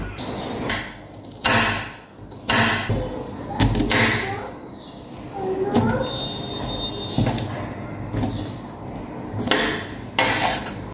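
A knife chops a banana blossom on a board in a series of sharp, close cuts spaced a second or so apart, with a soft voice speaking now and then between them.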